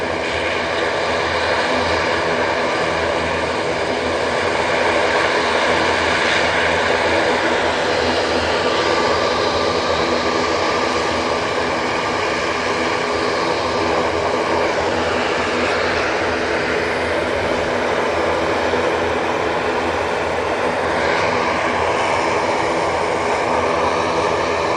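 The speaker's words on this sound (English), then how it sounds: "That Ryanair is off to Seville." A Ryanair airliner departing Manchester Airport for Seville produces a continuous, loud engine roar that holds steady and sustained throughout, with no voices over it.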